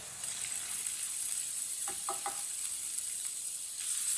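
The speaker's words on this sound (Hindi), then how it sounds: "एक चम्मच कुटा हुआ लहसुन डालेंगे।" A spoonful of crushed garlic sizzling in a frying pan with lightly browned onions, a continuous hiss with a few short clinks of a spoon near the middle, steady and close.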